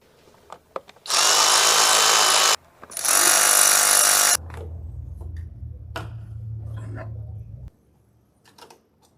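A power driver removes two T30 screws from a Ford Focus ST225 engine cover, two loud bursts of whirring a few seconds apart, followed by a lower mechanical hum and scattered small clicks.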